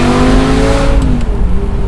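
A gated-manual Lamborghini Gallardo supercar revs hard outdoors, a loud, close, sustained engine roar with a rising, harmonically rich tone that eases off near the end.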